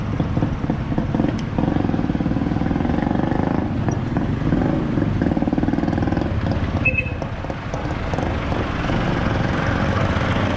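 Motorcycles at a pay parking area for motorbikes, tricycles and cars give a loud, continuous engine drone close by, with a steady rumbling throb and brief shifts in tone.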